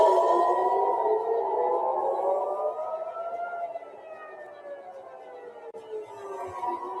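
Air raid sirens wail over Tel Aviv during an Iranian ballistic missile attack, a long rising-and-falling tone heard from a distance that fades and swells again.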